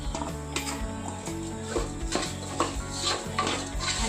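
Roasted vermicelli is stirred and mixed in a bowl, producing soft, quiet clicking and scraping taps over a steady tonal background.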